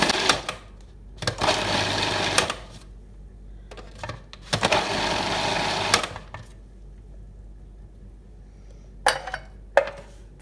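A food processor grinds onion for kibbeh in several short whirring pulses, two longer ones of about a second and a half with brief clicks and rattles between, then quiet gaps.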